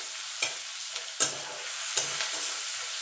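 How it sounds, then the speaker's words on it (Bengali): Nigella seeds fry in hot oil with a steady low sizzle, broken by three sharp spoon scrapes against the pan spaced about a second apart; no voices. "এবার জিরেটা একটুখানি ভাজা ভাজা করে নেব"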